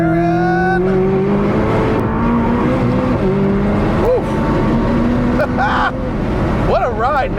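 A 2019 McLaren 600LT Spider engine roars loud and close on a race track, rising in pitch through the gears with quick upshift breaks and crackles, while someone talks over the sustained noise.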